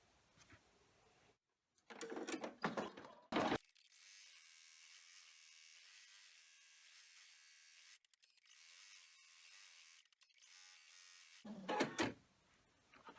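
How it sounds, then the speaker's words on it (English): An embroidery machine sewing a placement stitch on cutaway stabilizer runs as a steady, even mechanical whir for about eight seconds, framed by brief handling clatter before it starts and after it stops. "we need to run the placement stitch on the cutaway stabilizer"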